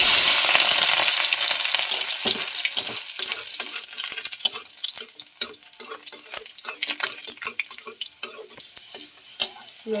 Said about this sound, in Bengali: ওই তেলের মধ্যে রসুনগুলো ভেজে নেব।